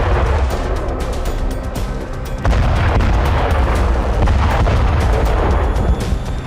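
Bombardment in northern Gaza rumbles loudly and continuously, with heavy booms and blasts overlapping one after another.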